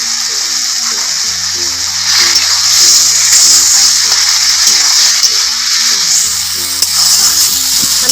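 Green chilies sizzle steadily in hot oil in a pan while prawns are cooked. The frying hiss is loud and continuous, with a low hum underneath, and no voice is heard.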